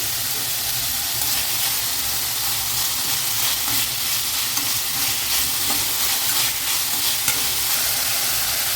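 Onions sauté in a pan for ragi rava kichadi, giving a steady close sizzle and frying hiss with occasional stirring scrapes, continuous and moderately loud without talk.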